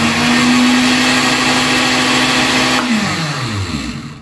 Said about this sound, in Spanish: ahora voy a colocar la velocidad 2. Veamos la diferencia en la potencia del motor.